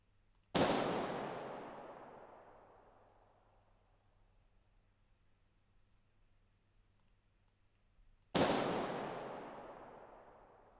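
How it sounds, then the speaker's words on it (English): A balloon bursts with a sharp loud bang in a room, its reverberation fading slowly over several seconds, then a second balloon pops near the end and begins another long decaying tail. "You imagine that when you bang a balloon and it sounds for 5 seconds."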